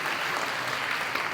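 An audience at a school drama presentation on the Jagannath Rath Yatra bursts into dense, steady applause, many hands clapping together for the drama team, loud and continuous for the whole moment.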